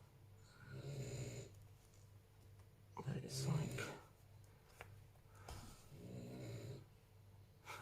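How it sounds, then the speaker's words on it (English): Slow, rhythmic snoring breaths from a sleeping puppy in its bed rise and fall close by, with a person speaking softly over part of it. "listen to him snoring"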